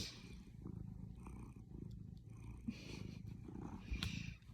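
A pet cat purrs up close indoors, a soft continuous rumbling rhythm with faint small rustles and no talking.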